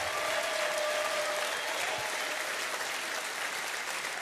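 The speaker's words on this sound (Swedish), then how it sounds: "Jag har gett dem en applåd." Audience applause at a Swedish live event introducing two speakers, a dense, even wash of clapping from a crowd, sustained and moderately distant without pause.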